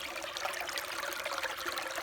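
Water runs steadily through an E-Z Sluice gold sluice box over bedrock, a continuous close splashing trickle with no talking.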